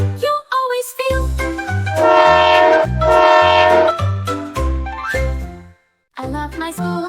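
Cartoon train sound effect within a children's learning rhyme, a loud rhythmic chugging pattern with a whistle-like tone that plays alongside music, stops briefly near the end and then resumes.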